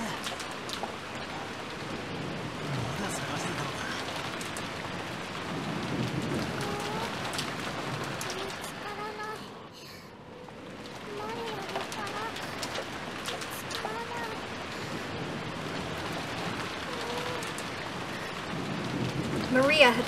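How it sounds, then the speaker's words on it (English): Heavy rain pours steadily in the video game Umineko: When They Cry, with low rolls of thunder swelling beneath the downpour at several points; a brief dip near the middle, otherwise a constant dense hiss. "Maria had probably been here since the rain started pouring down."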